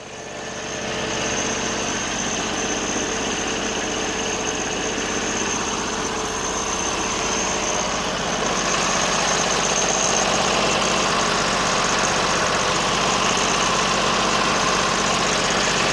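A Briggs and Stratton 20 hp V-twin engine from a Sears loader runs hot at a steady idle, a loud continuous mechanical drone with rough low rumble throughout, no voices.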